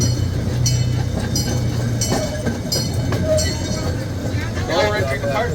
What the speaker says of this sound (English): Now we're entering the part of the zoo that you can only see if you're riding the train with us.